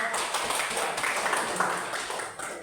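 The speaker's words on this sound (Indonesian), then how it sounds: "tepuk tangan untuk kelompok" A classroom full of students claps steadily for a group, a dense continuous patter of applause lasting throughout, with faint voices mixed in.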